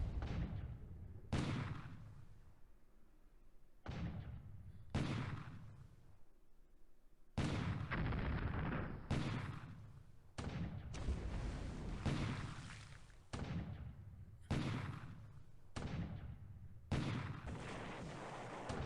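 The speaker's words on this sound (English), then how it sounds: "6-inch gun hit on the Aoba." Six-inch naval guns firing in the War in the Pacific strategy game, heard as a series of about a dozen heavy booming shots, each followed by a decaying rumble, spaced irregularly and loud with no talk.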